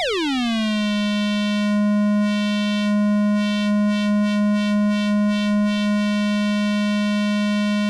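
A steady Korg Electribe synthesizer tone with rich, ringing harmonics, its pitch gliding down at the start, then holding with a slight pulsing filter resonance.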